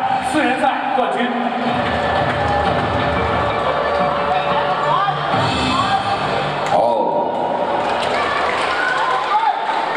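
A crowd at the RING STAR kickboxing event in Macau, part of a four-man China gold belt tournament, claps and cheers for a Hong Kong Muay Thai champion, a loud, continuous roar with an announcer speaking over it.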